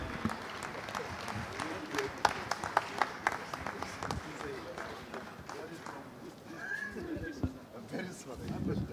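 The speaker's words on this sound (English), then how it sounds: "Please, a round of applause for our president." Audience applause for the president at a professional surveyors' and valuers' annual conference session, a moderate spread of clapping across a hall that thins out toward the end, with voices in the background.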